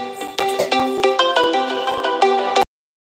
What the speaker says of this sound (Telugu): కాల్ వచ్చింది.